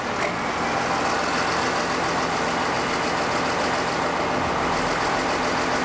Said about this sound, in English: we will start the tractor and have an operator run the boom extension out and back in